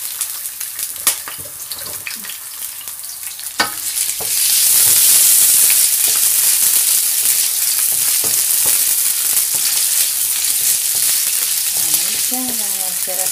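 Pancit bihon rice noodles stir-fried in a large wok give a loud, steady sizzle and hiss that swells after a few seconds of quieter clatter and stirring, then holds close and continuous to the end.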